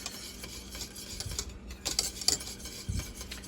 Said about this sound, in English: now we whisked for about 6 minutes over the heat